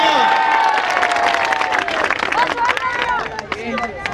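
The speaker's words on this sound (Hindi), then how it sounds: "मीना बाजार डेवलपमेंट एडवाइजर यूनियन की तरफ से जोरदार तालियां।" Crowd applause at a welcome ceremony with an open-air gathering, steady loud clapping mixed with cheering and chatter while a voice speaks over the noise.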